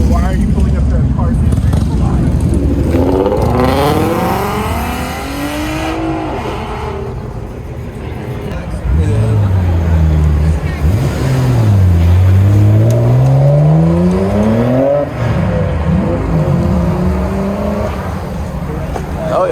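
Sports cars such as Lamborghinis, GT-Rs, BMWs and AMGs leaving a car show rev and accelerate hard, loud rising and falling engine sweeps passing close by one after another, with people talking and cheering over them.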